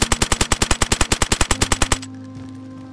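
A new rifle with an AK suppressor in DayZ fires a rapid, steady burst of about twenty loud, evenly spaced shots, then stops abruptly, leaving a faint mechanical hum.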